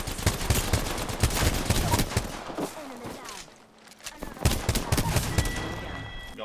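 Gunfire in the Apex Legends video game, rapid bursts of automatic shots and single cracks in quick succession with a brief lull midway, mixed with a player talking over it.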